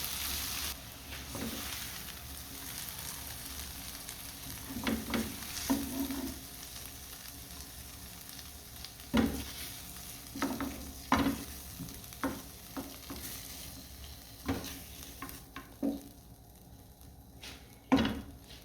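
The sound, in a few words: vegetables frying and being stirred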